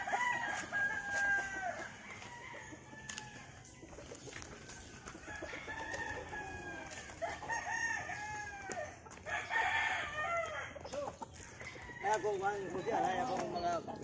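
Roosters crow repeatedly over steady hen clucking and barnyard chatter at a backyard gamefowl farm in Compostela, Cebu, with a person talking in the background throughout.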